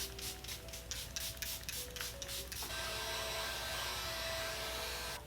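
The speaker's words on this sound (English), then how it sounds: "Take some more spray and just spray it one more time." Makeup setting spray misted from a pump bottle onto a face, heard as a quick series of short, close puffs followed by a longer steady hiss.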